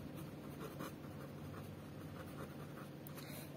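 A pen quickly scratches tally marks on paper in short, quiet repeated strokes, close up against faint steady room hum.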